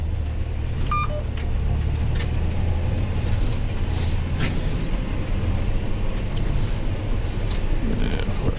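A John Deere 6190R or 6175R tractor pulls an 18-tonne Agrihire spinning disc spreader across a field on compost, giving a steady, loud low engine drone with faint clanks and hisses over it.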